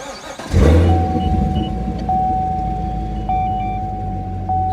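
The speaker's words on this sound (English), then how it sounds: "let me get inside, fire this sucker up, and then you can listen to the idle" A Chevrolet C7 Corvette fitted with an Akrapovic exhaust, in sport mode, starts with a loud flare then settles into a deep, steady, close-up idle rumble with a faint whine over it.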